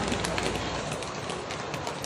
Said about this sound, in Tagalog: Ayan na guys. Ulan na.